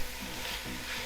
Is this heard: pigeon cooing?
no